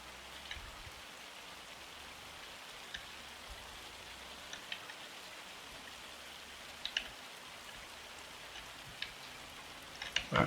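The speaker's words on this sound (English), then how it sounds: "just cannot believe on how torrential the rain is" Steady, dense hiss of torrential rain in Farming Simulator 25 pouring without letup, with a few sharper drip taps and splashes standing out now and then.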